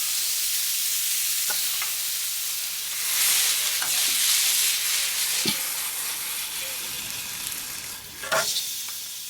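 Bologna slices fry on a hot griddle with a loud, continuous hissing sizzle, close by, with a few faint scrapes and taps of a spatula.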